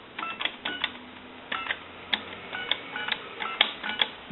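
A Bell South single-slot payphone dials a number as a rapid run of about a dozen short touch-tone beeps, grouped in quick bursts with brief pauses, heard through a narrow phone line.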